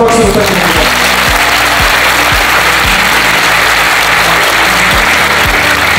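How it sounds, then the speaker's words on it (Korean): A large lecture-hall audience of trainee civil servants gives loud, dense, sustained applause for the president, a continuous wash of clapping from start to finish with faint low thumps beneath. "여러분 다시 한번 박수 부탁드립니다."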